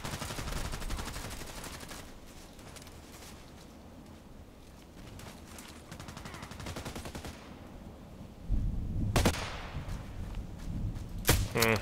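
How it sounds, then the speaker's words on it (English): Gunfire in a multiplayer shooter game, a dense chatter of rapid shots at mid distance giving way to a few louder, closer cracks near the end. "I see one guy shooting at me."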